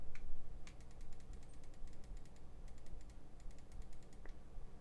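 Quick, crisp clicks from the left button of a budget wireless gaming mouse, tapped in short bursts of several, sit over a faint steady hiss; small and close.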